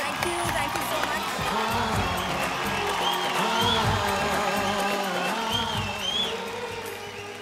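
A television talent-show studio audience claps and cheers loudly for actress Kajol, a dense, sustained wall of applause with whoops and shouts, and a host's voice talking over it before it tapers slightly at the end.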